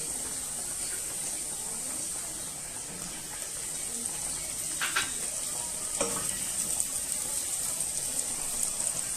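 Butter melting in a pan of sautéed peppers, with a steady sizzling fry and a few brief stirring scrapes of utensil against the pan.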